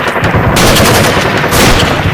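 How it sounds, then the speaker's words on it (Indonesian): Sustained bursts of gunfire in a Sundanese comedy film parody of Rambo, loud, dense rapid machine-gun fire filling the clip with a brief dip midway before resuming, no talking. "Tembakan euy."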